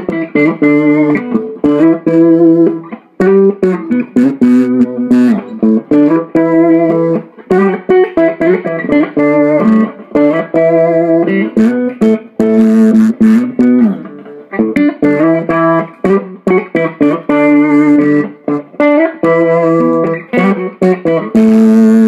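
Electric guitar through a wiring harness on the neck humbucker, dialed to a warm but powerful jazz tone, playing a steady run of clear chords and single notes, loud and close with no talking.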